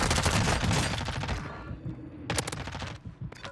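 Video game gunfire, loud rapid bursts of shots crackling densely through the first second and a half, then scattered sharper shots and a couple of later bursts over quieter background sound.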